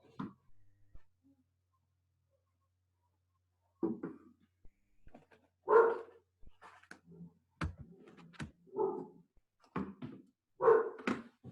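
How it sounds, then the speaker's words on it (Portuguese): A dog barks in short, sharp bursts after a quiet start, with the barks coming in an uneven series, some louder and some softer, and a few whimpers and thuds between them. "O cachorro ficou bravo, ó."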